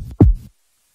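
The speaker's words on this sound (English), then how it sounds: "like John Goodman's heartbeat" Cartoon heartbeat effect from an animated comedy: a single deep, loud thump that booms low and close, then cuts off to silence.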